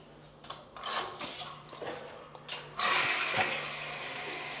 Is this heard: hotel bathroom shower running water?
yes